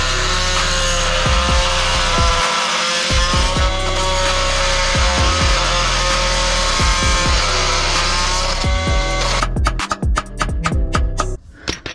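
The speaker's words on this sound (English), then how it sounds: "We'll use the multi-tool, try and get some kind of cut in it." An oscillating multi-tool buzzes loudly and steadily while cutting into a cast aluminium car part, its harsh grinding whine pausing briefly once before stuttering and cutting off near the end.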